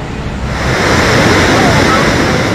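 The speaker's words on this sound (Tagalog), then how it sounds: "Nagmistulang falls ang napakalakas na bulwak ng tubig na gumising sa mga residente sa 5 barangay sa Santa Mesa, Maynila kaninang madaling araw" A powerful gush of water bursts from a broken water main in Santa Mesa, Manila, a loud, roaring, waterfall-like rush that swells and stays heavy and close, with a speaking voice partly mixed in.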